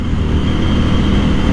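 A 2022 Husqvarna Norden 901 motorcycle engine drones loud and close during a test ride, a continuous, dense rumble with no pauses and no speech.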